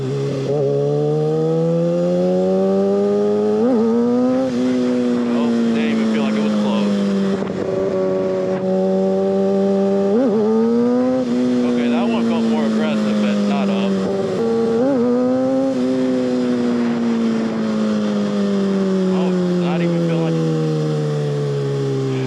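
A Kawasaki 636 600cc supersport motorcycle engine revs loudly and close, its pitch climbing and falling in repeated throttle blips over a sustained high-revving drone with wind noise.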